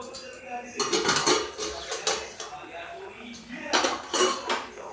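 A metal lid and pot clatter in a home kitchen as sweet corn is set to cook covered, several sharp clanks and scrapes close to the microphone, with a pause between bursts.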